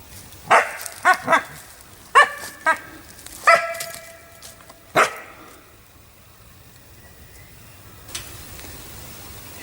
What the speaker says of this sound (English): Here's that male dog being dispatched.